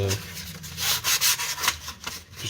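Sandpaper rubs back and forth over a BMW E30 front suspension part, giving short, soft scratchy strokes in an uneven rhythm, close and fairly quiet with no talking.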